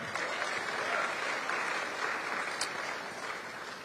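An audience at a Virginia Democratic candidates' forum applauds in a dense, steady clatter of clapping that fades slightly toward the end.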